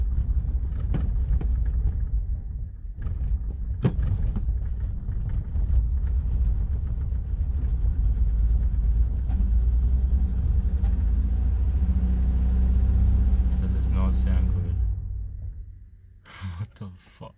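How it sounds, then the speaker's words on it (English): An RB30 engine under throttle, a steady loud low rumble that holds for about fourteen seconds with slight swells before dropping away near the end, with voices in the background. "Giving it some throttle"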